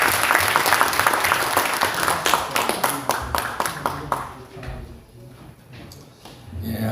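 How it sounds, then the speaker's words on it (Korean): Loud audience applause at a seminar in the National Assembly, dense clapping from a hall crowd that thins out and fades after about four seconds, leaving scattered claps and room noise. "힘찬 박수로 맞아주시기 바랍니다."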